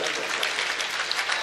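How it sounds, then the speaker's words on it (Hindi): An audience at a Deoband mushaira, an Urdu poetry recital, claps steadily in a short, dense burst that stays even in loudness throughout, with no speech over it. "मुझे गजल का मतलब पढ़ने के लिए तालियां बजाकर इजाजत दें"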